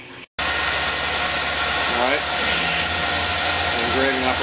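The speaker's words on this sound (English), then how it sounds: "I'm on to the second part of this operation, which is engraving it" A Tormach PCNC 1100 CNC mill engraves a part with a chamfering tool, its steady close mechanical whine and hum running continuously, with faint rising tones and a voice talking over it.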